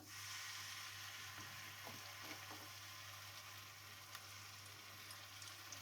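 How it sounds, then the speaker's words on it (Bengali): Garlic paste fries with onions in a pan, a soft, even sizzle with a few light stirring knocks, quiet and close with no talking. "এখন আমি এর মধ্যে দিয়ে দেব 2 চা চামচ রসুন বাটা"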